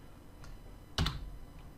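A computer keyboard is typed on with a few soft key taps, then one louder, sharper clack in the middle of a quiet room, with no talking.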